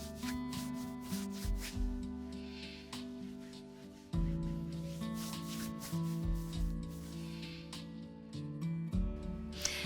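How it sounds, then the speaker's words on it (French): Repeated rubbing strokes of hands over the rib cage during a self-massage, a rhythmic swishing friction close up, heard over soft background music without speech. "Vous pouvez maintenant frotter toute la cage thoracique"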